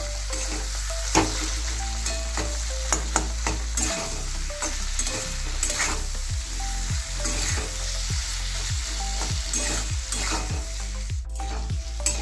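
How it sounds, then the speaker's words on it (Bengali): Curry sizzling in hot oil in a pan while a spoon stirs it, steady frying hiss with repeated scraping strokes and no talk. "নেড়ে নেব। ভালো করে কষবো।"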